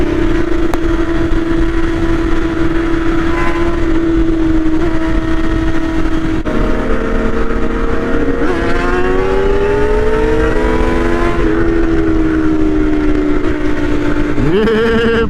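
Loud BMW S1000RR sport motorcycles riding in a group on a Dallas freeway, engines droning steadily close by, then revving and climbing in pitch through gear changes, with wind rush throughout.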